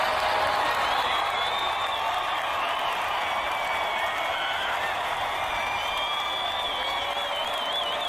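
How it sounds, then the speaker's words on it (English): Big crowd at a Marxist rally in New York City chanting "tax the rich" in unison, a loud dense mass of voices with whoops and cheers sustained throughout. "Big crowd."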